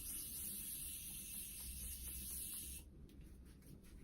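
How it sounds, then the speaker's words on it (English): A makeup setting spray releases a very fine mist in a soft continuous hiss for almost three seconds, then cuts off, leaving quiet faint rustling. "I did spray this and oh my god, it's like the most fine mist."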